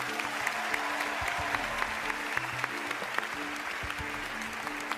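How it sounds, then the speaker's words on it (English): Sustained applause from an audience, steady clapping throughout with a busy crowd texture and no pauses. "How about a big round of applause for both of them?"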